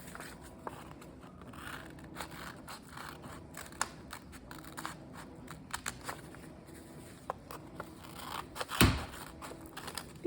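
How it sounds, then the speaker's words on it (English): Scissors snipping paper along fold creases for a children's notepad craft, with soft, scattered clicks and cuts under quiet room noise and one sharper snap near the end. "Now take your scissors and cut on the 3"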